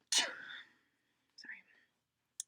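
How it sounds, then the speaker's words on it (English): A single sharp human sneeze bursts out near the start, loud and close, followed by a short quiet breathy sound and a tiny click before silence. "I'm gonna sneeze."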